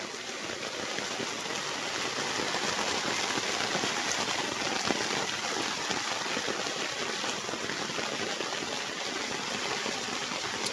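Rain falling on a farm lot in Majayjay, Laguna in cold weather, a steady, unbroken wash of dense pattering that holds at an even level throughout, with no voices.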